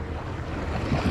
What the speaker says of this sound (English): I had to stop because of them waves.